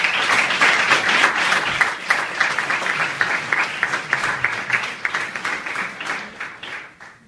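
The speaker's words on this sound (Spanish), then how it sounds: "para quien pido recibamos también con un fuerte aplauso" An audience at a university law event in Xalapa breaks into sustained applause, a dense wash of many hands clapping that holds steady and then gradually thins toward the end.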